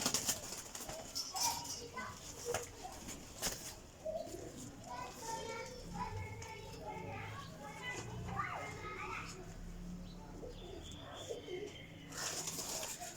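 Pigeons coo softly in repeated short calls around a loft, mixed with children playing and chatter nearby and scattered sharp clicks and rustles.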